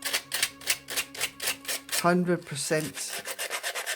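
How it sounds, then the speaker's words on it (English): Sandpaper rubbed back and forth over paper for a junk journal, a steady run of close, rhythmic scraping strokes, briefly interrupted midway by a short spoken remark before the strokes resume. "you can sand it down as much as you want"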